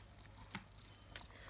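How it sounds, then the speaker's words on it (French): Male crickets chirp inside a plastic breeding box with ventilation, three short, bright, close trills in a quick uneven rhythm against near silence. "On peut entendre les mâles chanter."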